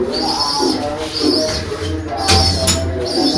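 Pigeons in a coop, among them a large hen, give low, murmuring coos in short repeated bursts amid a busy, noisy background with a few sharp knocks.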